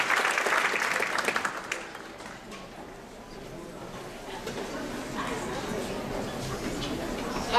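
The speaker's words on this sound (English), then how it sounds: "Let's give her a round of applause." Applause from an audience at a sixth grade band concert fills the start, then fades into a murmur of crowd noise and indistinct voices with some scattered clapping.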